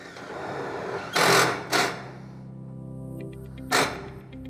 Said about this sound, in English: Now we have our sheets in, we can proceed to screw off the top rail